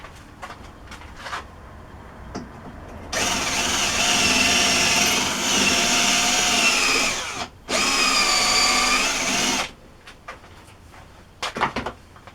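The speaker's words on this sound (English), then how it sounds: "I've actually drilled that hole past where this is going to be" A lathe drilling a hole in a stepped change gear sleeve: a loud steady whine of cutting that runs for several seconds, breaks off briefly and resumes, with clicks and handling knocks before and after.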